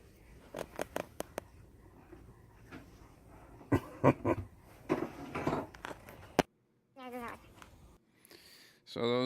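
A small dog makes short whimpering and growling sounds in scattered bursts, with sharp patter and clicks nearby and a brief silence near the end.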